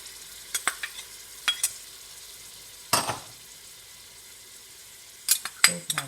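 Onions and green seasoning fry in a pot while a spoon stirs, with scattered sharp scraping clacks and one louder sizzling burst over a low steady frying hiss.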